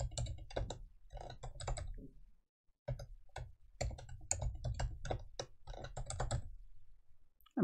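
A password being typed on a computer keyboard, with bursts of close, crisp keystrokes in an uneven rhythm and a short pause partway through.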